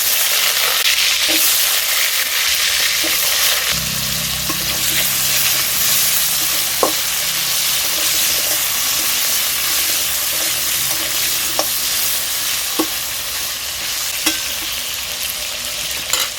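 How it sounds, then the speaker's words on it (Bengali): Pieces of potato fry in hot oil with a steady, loud sizzle, broken by occasional clinks of a utensil against the pan. "তেলটা গরম হয়ে গিয়েছে এবার আমি আলুগুলো ভেজে নেব দিয়ে দিচ্ছি আলুর টুকরো"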